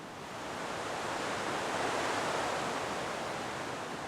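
Fast-flowing Scottish river rushing over rocks, a steady broad roar of whitewater that stays loud and even from start to finish, with no voices.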